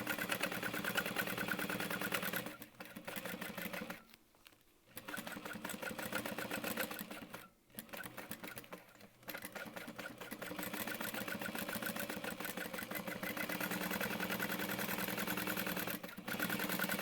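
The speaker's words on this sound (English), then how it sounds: "I'm going to stitch around so that nothing shifts." A sewing machine stitches around crossbody bag pieces with a steady mechanical whir, running in long stretches broken by a few brief pauses, with no voices.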